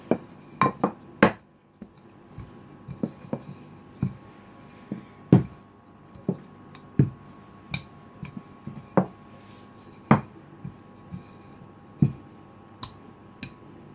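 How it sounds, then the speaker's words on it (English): Mince pie pastry is stamped out for twelve star-shaped tops with a cutter, giving sharp, irregular taps and clicks on the work surface, close and clear, spaced a second or so apart with quiet gaps. "we want to cut out our 12 tops for our mince pies"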